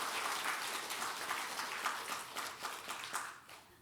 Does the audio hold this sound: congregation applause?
yes